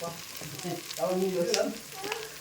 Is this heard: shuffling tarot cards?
no